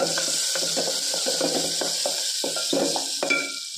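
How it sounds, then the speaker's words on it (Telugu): Onions sizzling steadily in a hot pan while a spoon stirs them, with repeated scraping strokes against the metal at an irregular rhythm, close and continuous with no talk. "ఆనియన్స్ మగ్గుతుంటాయి."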